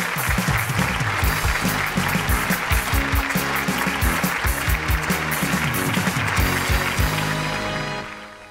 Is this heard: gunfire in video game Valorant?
no